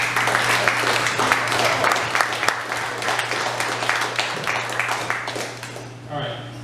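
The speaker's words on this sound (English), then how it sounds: "We should give a round of applause to those two." A poetry-reading audience gives a full, close round of applause that runs for several seconds before fading, with a voice starting to speak as the clapping dies away.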